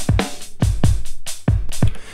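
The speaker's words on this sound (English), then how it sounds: "I took the drums and I started chopping them up into pieces." Chopped drum slices played back on a hardware sampler, with punchy kicks and snares landing in an uneven, halftime-style pattern of about seven hits over two seconds, loud and close with no other sounds.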